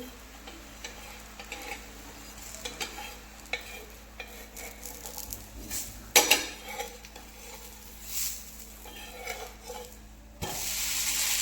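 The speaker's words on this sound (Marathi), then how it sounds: "आता डोसा आपल्याला पलटवून घ्यायचा आहे" A Davangere butter dosa being flipped on a hot pan: soft sizzling under scraping and a few metallic clinks of the spatula against the pan, one sharp knock midway, close and without talk.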